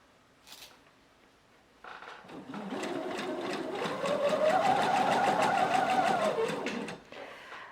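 A sewing machine stitches a dart in fabric, whirring in a fast, even run of needle beats that speeds up, holds, then slows and stops, after a brief click.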